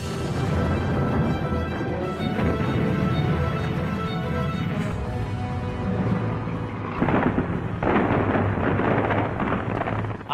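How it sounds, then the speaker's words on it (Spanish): Soviet artillery fire at Stalingrad opening the counteroffensive, heard from afar as a continuous low rumble of distant cannon booms rolling over one another, with heavier bursts near the end. "las tropas alemanas oyen cañonazos distantes procedentes del noroeste y del sur"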